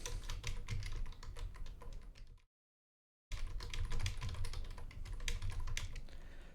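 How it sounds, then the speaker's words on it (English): Rapid clattering of a computer keyboard during an online chess startup tournament, steady keystrokes close by, cut by a brief silence before resuming just as busily. "I'm typing into the chat, or into the Discord"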